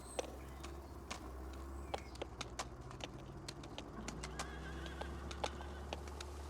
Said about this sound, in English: We haven't been on the horses for a while.